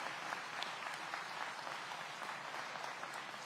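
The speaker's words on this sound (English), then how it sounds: "we can give them a round of applause" Applause from a gathering at a public safety and community engagement event, a faint, even patter of many hands clapping at a steady density throughout, heard from a distance with no talk over it.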